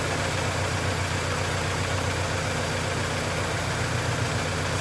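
A 1998 Toyota engine idles with a misfire from a bad spark plug wire, a steady, loud, low rumble with an uneven, slightly lumpy pulse throughout and no voices.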